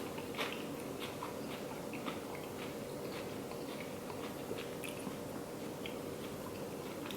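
Close, wet chewing and biting into a juicy Yellow Peruvian Cusco pepper, soft irregular squishy crunches over a faint steady background hum, with no speech.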